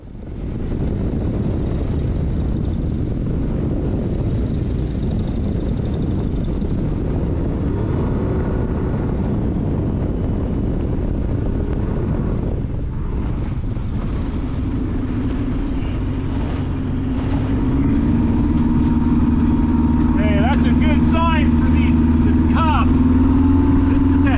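A RANS S-7S light aircraft fitted with a Badlands STOL leading-edge cuff kit drones steadily through its takeoff run, its engine noise close and constant before swelling louder and deeper partway through.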